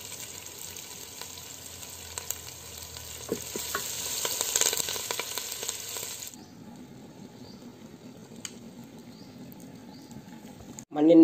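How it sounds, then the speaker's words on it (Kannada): Curry leaves and garlic fry in oil for chicken saaru, giving a moderate crackling sizzle with scattered pops and stirring clinks that fades to a much quieter background after about six seconds. "ಈ ಕರಿಬೇವು ಮತ್ತು ಬೆಳ್ಳುಳ್ಳಿಯನ್ನು ಫ್ರೈ ಮಾಡಿ ಹಾಕೋದ್ರಿಂದ ಸಾರಿದು ಟೇಸ್ಟ್ ತುಂಬ ಚೆನ್ನಾಗಿ ಬರುತ್ತೆ."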